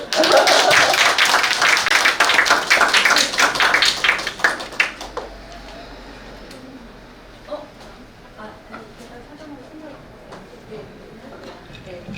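An audience at a Korean citizen-records discussion forum breaks into clapping, a dense burst of claps that fades after about five seconds, leaving a quiet room with a few scattered taps and faint voices.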